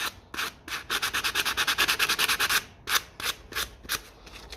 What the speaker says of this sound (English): Polish it up